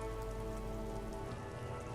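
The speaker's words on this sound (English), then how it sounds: "It's raining again." Steady rain pours down in Disco Elysium, a dense, even hiss of drops on surfaces with no pauses, fairly quiet and alone without voices.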